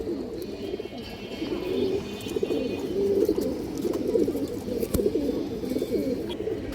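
A flock of flying pigeons kept in a loft coo continuously in low, overlapping rolling calls, close and steady, with a brief sharp click partway through.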